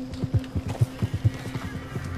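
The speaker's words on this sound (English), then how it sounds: "Oh, it's a random horse." A horse in Red Dead Redemption 2 snorts and whinnies in a string of short, rhythmic bursts close by, with a steady low hum underneath and no talk.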